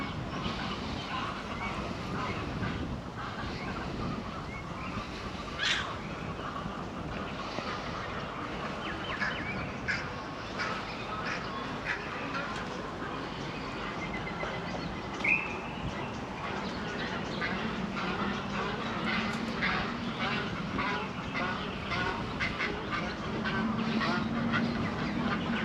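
Ducks quack and geese honk steadily across Tomato Lake, with other birds calling in the background and no one speaking.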